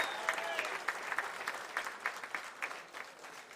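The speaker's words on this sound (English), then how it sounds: "give him a clap, give him a round of applause." Audience applause at a King Of The Table 6 arm-wrestling event, a steady patter of clapping from a crowd with sharper individual claps standing out, moderately loud and without voices over it.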